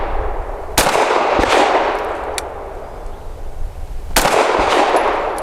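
Sig M17 X-Change pistol fired at a target outdoors: two sharp, loud shots close together near the start, then a single shot later, each with a short decaying tail, no talking.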